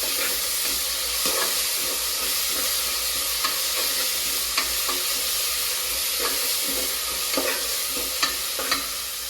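Onions, green chillies and ginger sauté in a pan as the base for a Kerala-style chicken curry, giving a steady, close sizzle with frequent light clicks and scrapes of a stirring spoon.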